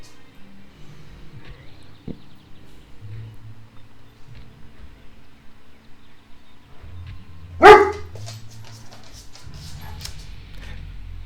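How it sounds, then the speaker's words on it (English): A dog barks once, loud and sharp, over quiet game ambience and faint background sounds. "That would be my dog."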